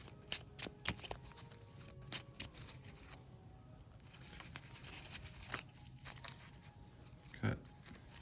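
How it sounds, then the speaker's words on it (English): Deck of trading cards riffled and shuffled by hand during a Yu-Gi-Oh Dark Magician game, a run of soft papery flicks and taps at close range, quiet and alone with no talk. "Shuffle a little bit."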